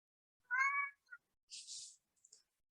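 A cat meows twice, close and clear, with a short chirp after the first call and small soft sounds after the second, set against complete silence.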